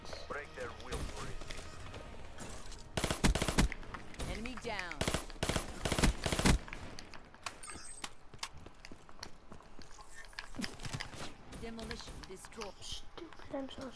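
Rapid automatic PMP gunfire in a video game, with dense bursts of shots clustered near the middle, separated by quieter stretches filled with clattering game effects.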